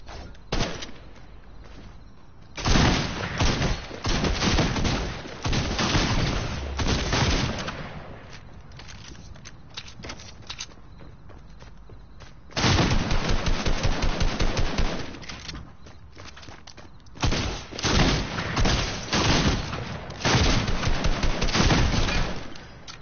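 Automatic rifle fire from a gray AK in a multiplayer shooter game, coming as several long, loud, rapid bursts separated by quieter gaps, with no talking over it.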